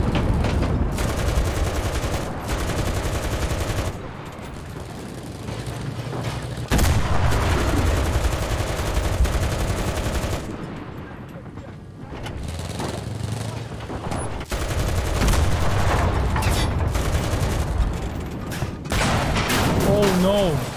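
Heavy gunfire and tank cannon fire in the WWII shooter Enlisted, with dense bursts of rifle and machine-gun shots and booming blasts running throughout, loud and continuous, while a player's voice talks over the battle.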